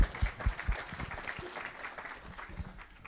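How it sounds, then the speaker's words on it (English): Conference audience at a Kubernetes event applauding a volunteer: scattered, fairly quiet clapping from a room crowd, with a few louder nearby claps at the start, tapering off over a few seconds. "Give this guy a round of applause."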